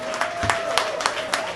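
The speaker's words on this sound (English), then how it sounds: "Yes, a round of applause" A round of applause from an event audience, scattered claps rising over a steady crowd murmur, mixed with a voice speaking over it.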